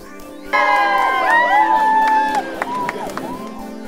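A crowd cheering by the road at the Tour de Yorkshire cycle race, loud shouts and high whoops that break out suddenly and carry on with voices mixed in.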